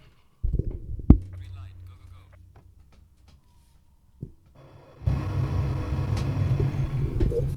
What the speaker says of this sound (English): I want you guys to listen to something while this car turns on.